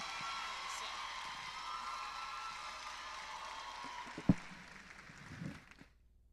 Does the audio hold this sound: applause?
yes